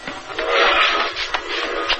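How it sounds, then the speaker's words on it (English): A steam train whistle blows in an old-time radio drama set in the woods near a railway, a loud, sustained shrill tone lasting about two seconds with no voices over it. "he heard a whistle and knew the train was on schedule"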